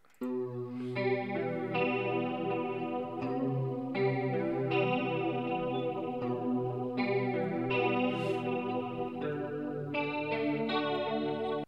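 A looped musical sample of sustained, harmonically rich tones with a sweeping, whooshing flanger effect, playing continuously at moderate volume with no voices.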